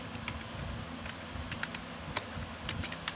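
Someone types C++ code on a computer keyboard in a steady run of close, crisp key clicks with a few louder taps, and no one speaks.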